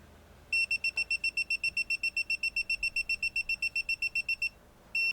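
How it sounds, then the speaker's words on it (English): A propane leak alarm in an RV sounds a rapid series of loud, high-pitched electronic beeps repeating steadily for several seconds, then a short pause and one more burst. "the valve on the T-connector set the alarm off."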